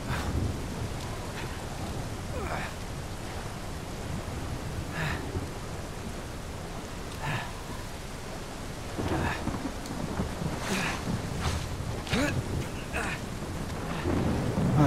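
Heavy rain hisses steadily through a thunderstorm in Uncharted 4, with rumbling thunder and sharper cracks rising over the downpour, loud and continuous.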